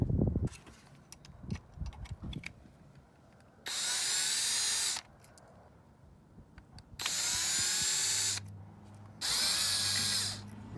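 A power drill with a Torx bit backs out screws on a Jeep JL during a CAVFAB tire carrier delete, three loud whirring bursts of a second or two each, separated by quiet clicks and handling noises.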